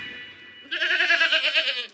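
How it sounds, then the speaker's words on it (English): Goats bleat in a loud, wavering cry that swells after a short quieter lead-in and holds for over a second, close and alone with no talk. "You are scaring the goats."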